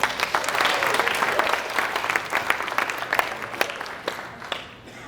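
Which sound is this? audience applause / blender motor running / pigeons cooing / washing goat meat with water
audience applause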